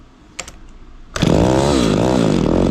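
An Echo 280e chainsaw sits quietly with a couple of faint clicks, then its small two-stroke engine bursts into a loud, close, buzzing rev that wavers slightly as the throttle is held.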